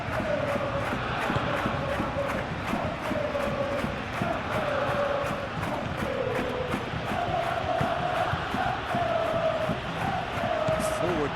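A large crowd in a football stadium at a Real Betis vs Barcelona La Liga match, roaring and chanting in a steady, dense wall of sound, with a commentator talking over it.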